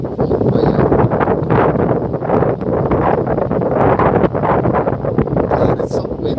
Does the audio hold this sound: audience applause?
no